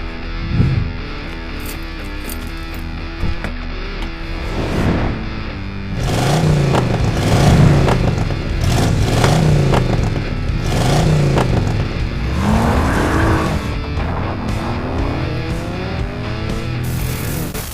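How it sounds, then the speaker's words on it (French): A car engine revs through a dramatic, Hollywood-style driving scene, with swelling whoosh effects and a music bed; the revving rises and falls in several loud surges, and no one speaks. "la musique et les effets sonores donnent vraiment vie à la scène, avec les effets de souffle et les montées en régime du moteur"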